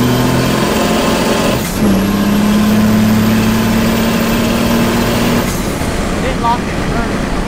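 1st gen Cummins diesel truck with a swapped 47RE automatic transmission driving, a loud continuous engine drone that rises steadily in pitch as it revs out, then drops as the gear changes, with someone talking over it.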